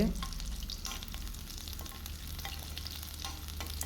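Cinnamon, cloves and a few garlic cloves frying in butter in a pan for chickpea biryani, a steady close sizzle with crackles and light stirring throughout.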